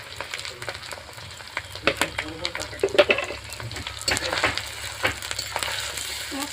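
Spice paste of dried chilli, ginger, cumin and garlic fries in a pan with steady close sizzling and scraping stir strokes, no talking.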